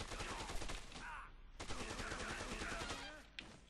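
Rapid automatic fire from a mercenary assault rifle in the video game Dead Rising 2, loud sustained bursts with a short pause midway and a final brief burst.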